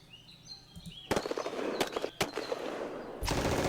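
Bursts of machine-gun fire and single sharp shots from a World War II France 1940 wargame battle, loud and close, with faint bird chirps in the background early on.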